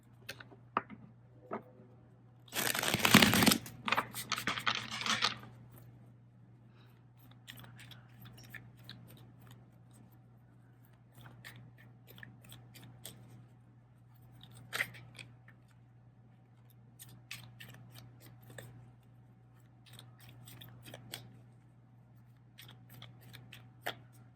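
A quick burst of tarot cards being riffled and shuffled, loud and crisp for about a second, followed by softer scattered clicks and taps over a faint steady hum.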